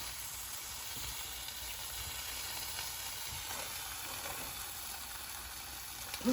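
A grilled cheese sandwich sizzling in a pan gives a faint, steady hiss that holds evenly throughout, with a brief louder knock right at the end.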